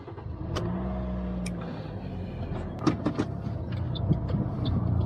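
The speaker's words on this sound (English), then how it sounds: "Make sure I start the car." A car engine starts and settles into a low idle, heard from inside the cabin before a driving lesson. It is a close, steady hum with a few faint clicks and mechanical knocks, and no one speaks.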